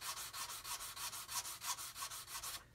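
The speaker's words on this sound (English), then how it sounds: "So what I want to do here is just sand this away" Hand sanding of a model aircraft's wing root where it meets the fuselage: a quiet, close, rhythmic rubbing of about five strokes per second that stops abruptly at the end.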